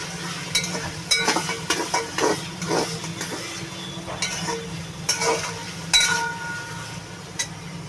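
Meat goes into a pot of hot oil with cumin and chili powder and sizzles, while a spoon scrapes and stirs in irregular bursts. The sound is close and moderately loud, with no voices.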